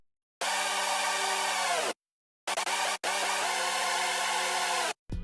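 Layered synth chords from an electronic production track on their own bus, sounding as harsh, buzzy sustained stabs that cut off abruptly, with short choppy bursts between longer held chords and moments of silence.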